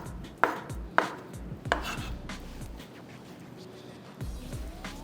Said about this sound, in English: I'm going to just cut my soya chops and going to be putting it inside here.